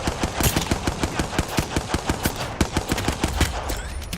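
Rapid automatic gunfire from a video game, a loud, evenly spaced burst of shots rattling continuously for several seconds with no speech.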